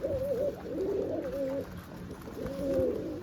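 Soft, rolling coos from pigeons after bathing come in a couple of throaty bursts, fairly close and quiet, with no talking.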